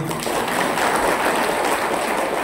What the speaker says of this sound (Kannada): ಖುಷಿಯಾದ ಚಪ್ಪಾಳೆ ತಟ್ರಿ.